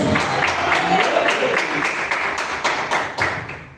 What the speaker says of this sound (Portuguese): Palmas em glória dos irmãos.